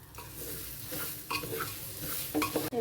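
Bengali-style vegetarian bhuna khichuri being stirred in a pot, close scraping and shuffling of a spoon against the bottom over a low sizzle, with a couple of sharper metal knocks.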